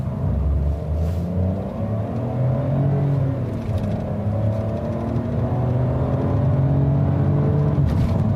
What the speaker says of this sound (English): Let's just show you the performance of this small petrol engine first